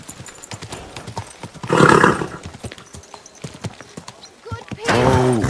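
A horse in Kingdom Come Deliverance 2 clops its hooves in an irregular rhythm, then gives two loud, close whinnies, the second rising and wavering near the end.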